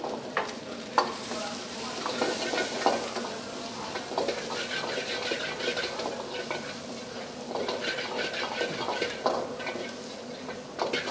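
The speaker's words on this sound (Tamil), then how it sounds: "தேவையான அளவு ஆயில் ஊற்றி வரமிளகா கருவேப்பிலை போட்டு நிறைய சின்ன வெங்காயம் போட்டு நல்லா அப்படியே சாட்டே பண்ணோம்" Small onions, dried red chillies and curry leaves sautéing in hot oil, a continuous sizzle broken by repeated scraping stirs of a spoon in the pan, close and fairly loud, with no talking.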